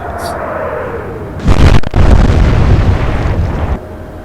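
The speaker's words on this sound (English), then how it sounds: "Well, we got an explosion." A naval shell explodes in the World War II naval strategy game Atlantic Fleet, Royal Navy against Kriegsmarine: a loud, sudden boom at about one and a half seconds, followed by a rumbling roar that holds for roughly two seconds before dropping back.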